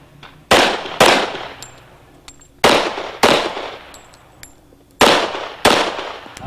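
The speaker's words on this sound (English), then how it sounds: "Nice steady shooting." Pistol fired on a 1997 IDPA competition stage: sharp, loud shots in three pairs, each pair about half a second apart with short pauses between, ringing out alone.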